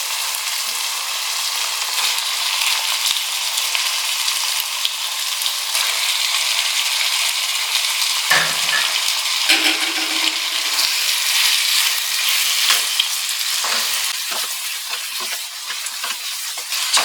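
Half a kilo of chicken sizzles and fries with tomatoes in a pan for white chicken pulao, a continuous loud hiss with occasional stirring scrapes and clatter.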